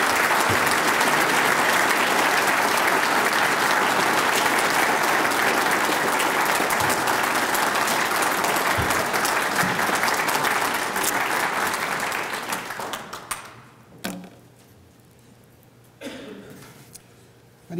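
An audience applauds to welcome Professor Richard Delgado at a law school lecture, giving sustained, dense clapping that fills the hall and then tapers off into a few scattered claps and room noise.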